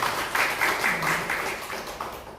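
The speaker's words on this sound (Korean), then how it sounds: "우리 박수 한번 환영해 주십시다" A church congregation claps briefly to welcome a member back, a short burst of scattered applause that fades as a faint voice carries on underneath.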